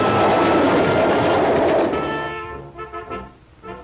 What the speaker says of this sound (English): Ski enthusiasts travel to high mountain slides in special conveyances known as ski trains.